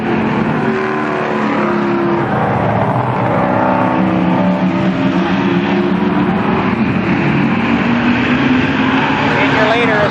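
Race cars roaring around the oval at Columbus Motor Speedway, loud overlapping engine drones rising and falling as the pack circles, with a race announcer talking over the continuous noise.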